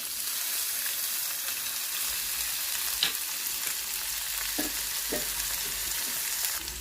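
Ridge gourd pieces, peels, tomatoes and green chillies sizzle in a little oil in a kadai, giving a steady soft hiss broken by a few brief stirring clinks and scrapes.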